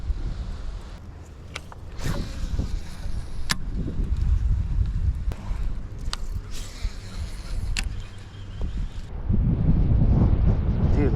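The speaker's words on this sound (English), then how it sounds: "Dude, look at this wind," Gusty wind blowing outdoors by the water during a fishing trip, a steady low rumble of buffeting against the microphone with occasional sharp clicks and knocks, swelling stronger toward the end.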